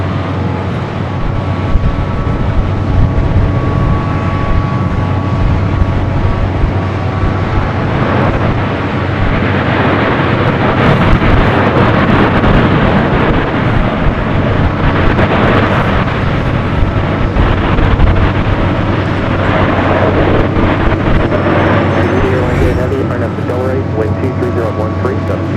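Air New Zealand Boeing 787 Dreamliner taking off at LAX, a loud sustained jet roar with broadband rumble and wind buffeting on the microphone, continuous throughout with a voice talking over it.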